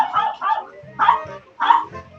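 Dog barking frantically as someone walks in the door, several sharp barks and yips in quick bursts, loud and close, with whimpering tones between them.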